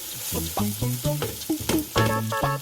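Gazpacho flatbread (coca) for Manchego gaspatxos hits a hot ordinary frying pan, bursts of sizzling and clattering stirs, close and busy, with some tonal clinks through it.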